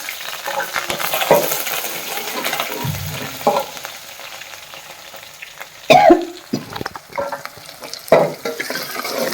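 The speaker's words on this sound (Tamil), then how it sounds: "இனி வெங்காயத்தை போட்டுக்கலாம். வெங்காயம், கருவேப்பிலை" Onions and curry leaves drop into hot oil in a pan for a country chicken curry, giving a soft, steady sizzle broken by louder scrapes and stirring knocks.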